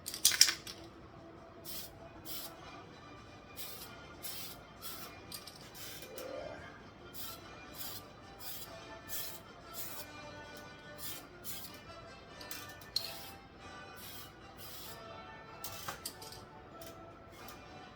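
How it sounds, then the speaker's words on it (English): Repeated short hisses of an aerosol spray can painting a 1/1000 scale USS Enterprise model, in bursts with brief gaps, close and fairly quiet, with faint clinks in between. "So start spraying."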